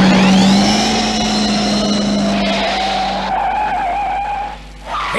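A remote-controlled DeLorean skids away in a radio drama, a loud sustained tire screech with engine whine that holds for about three seconds, then fades into rumbling motor noise.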